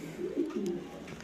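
A grizzle-coloured fancy pigeon in a loft gives a short series of low, throaty coos, close and clear over a faint steady background, with no voices.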